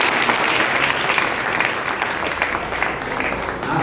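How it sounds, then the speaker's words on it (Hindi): Vigorous applause from an audience at a religious gathering in a Jain temple in Ratlam, a thick, even wash of many hands clapping for the whole stretch. "तो आदि जी के लिए एक बार जोरदार ताली।"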